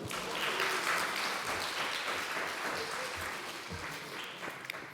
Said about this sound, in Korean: 예, 동의하시는 분만 박수.